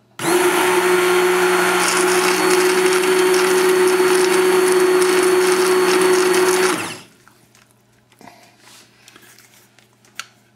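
An immersion blender purees carrot soup with cumin, running as a loud, steady motor whine for about seven seconds before cutting off abruptly, followed by quiet clinks and light handling noises.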